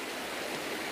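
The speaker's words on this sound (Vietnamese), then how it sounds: "Đấy, đây là khe suối." A clear mountain stream in deep forest flows steadily, a close, even rushing hiss of water with no voices over it.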